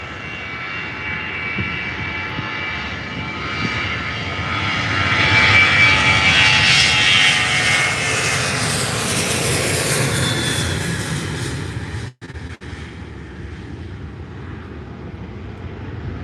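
A Transavia Boeing 737 jet taking off at Faro Airport, a loud sustained engine roar that swells to a peak and then slowly fades as it climbs away, heard from nearby outdoors.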